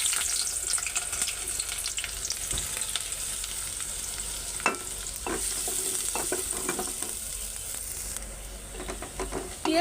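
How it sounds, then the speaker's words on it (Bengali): Onions fry in hot oil, a steady soft sizzle with intermittent scraping and stirring knocks from a spatula throughout, fairly quiet and close, for a Bengali fish curry. "পেঁয়াজটাকে সুন্দর করে একটু হালকা লাল করে ভাজা নিব।"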